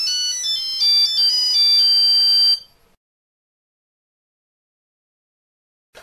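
Nokia N8 smartphone sounding an electronic ringing tone after dialing a contact, a bright warbling melody for a couple of seconds that cuts off abruptly into silence.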